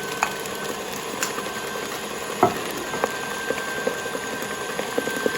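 Eggs are beaten into cake batter for a chocolate-coconut pound cake. A mixer gives off a soft steady whir with faint scraping and knocks at uneven spacing throughout.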